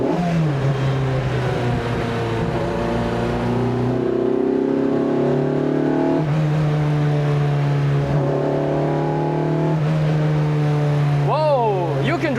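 A Lotus Elise 340R sports car driven hard, its engine droning loudly and rising and falling in pitch through the revs, close and dominant throughout.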